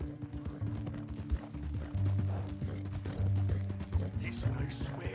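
Horse hooves clip-clop in Red Dead Redemption 2, a steady rhythmic plodding of muffled hoof strikes with creaking tack, moderately close, under people talking.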